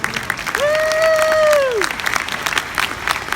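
A crowd applauding steadily for a few seconds at a Palo Alto College graduation ceremony, while a single sustained whistle-like tone rises and falls over the clapping.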